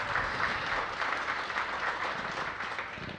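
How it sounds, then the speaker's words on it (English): A crowd at a mayoral grants announcement gives a round of applause, a dense, even roar of clapping that holds steady and tapers slightly at the end. "Give them a big round of applause"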